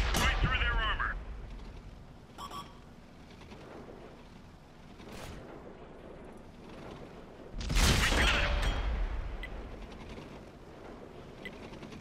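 Tank cannon shots in World of Tanks on Xbox 360: a few heavy booming blasts, one near the start and a louder one later, over a steady mechanical engine rumble, with someone talking between them.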